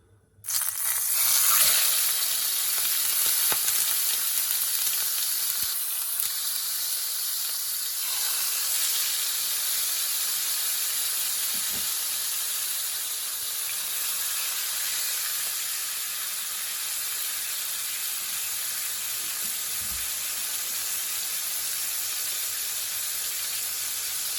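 Salmon laid into a very hot frying pan sets off a sudden loud hiss. It settles into a steady, close sizzle that carries on evenly, with faint clinks along the way.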